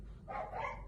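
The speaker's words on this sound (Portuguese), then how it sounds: "estão escutando o latido de cachorro?" A single dog barks once, a short yelping bark heard at moderate distance over a low background hum.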